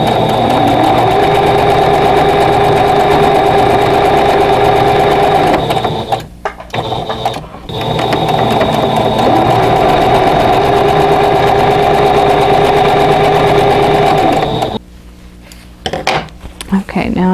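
A sewing machine runs in steady, sustained bursts as it stitches a row of an Arrowhead Star quilt block, with a brief pause midway and a stop near the end, heard close and alone.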